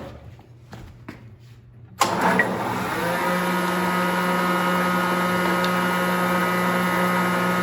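Jointer machining wooden pieces for a garden bench: a few soft taps, then the machine switches on with a sharp start and settles into a loud, steady motor whine and hum, close by.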